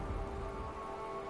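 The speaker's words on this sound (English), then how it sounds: "Well, it is raining out there" Steady rain falls in the video game Unravel, a dense continuous patter with a faint tonal hum beneath, heard alone without voices.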